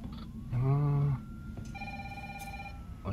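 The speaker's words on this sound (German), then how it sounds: "So, gehen wir mal ans Telefon." A telephone ringing in the Resident Evil 3 Remake video game, a brief tonal ring followed by a sustained electronic chime tone, moderately loud over a low ambient background.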